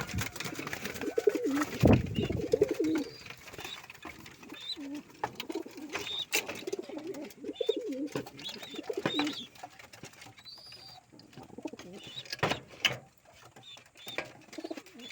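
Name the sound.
pigeons cooing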